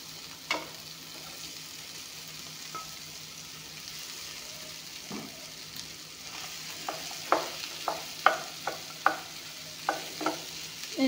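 Vegetables stir-frying in a pan with a little oil for a samosa-filling recipe, a soft steady sizzle broken by a series of sharp spatula scrapes and clatters that grow louder and more frequent toward the end.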